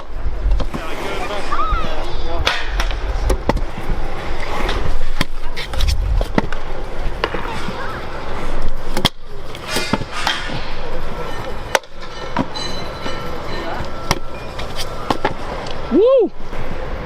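An Aztek Lucid skateboard rolls and clacks through repeated 5-0 stalls, with wheel rumble broken by sharp board impacts, while a person talks and calls out now and then.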